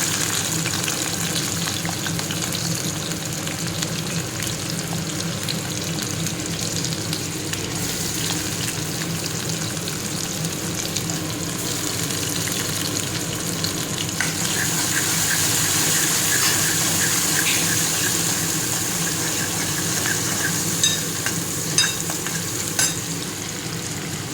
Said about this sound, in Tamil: கடுகு பொரியும் போது சின்ன வெங்காயம், பூண்டையும் நச்சு வச்சுருக்கேன், அது போடுறேன்